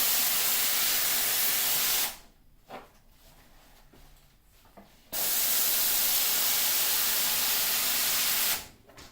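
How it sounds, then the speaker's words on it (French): Vapodil steam cleaner sending a steady hiss of steam into a fabric sports cushion, loud and continuous in two long bursts separated by a quieter pause. "simplement en envoyant la vapeur"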